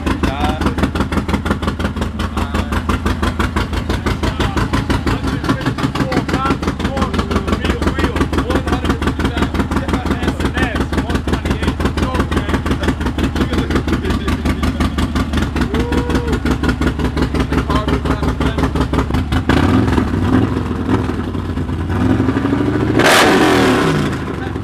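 A Honda CBR600RR sport bike rumbles at a steady, throbbing idle close by, then blips into a couple of sharp revs near the end, with people talking over it.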